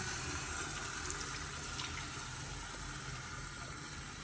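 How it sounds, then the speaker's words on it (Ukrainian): Tap water runs steadily while shampoo is rinsed out of a salon client's hair during a keratin treatment, a continuous close hiss of flowing water with no talk. "Мы хорошо отмываем шампунчик."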